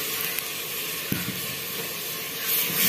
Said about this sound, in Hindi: थोड़ा सा तड़का लगता है,